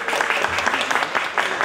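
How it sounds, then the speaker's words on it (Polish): Audience clapping at a calendar premiere event in Gliwice, a dense and fairly loud burst of many hands applauding together, steady across the short stretch without speech. "brawa wielkie, należą się"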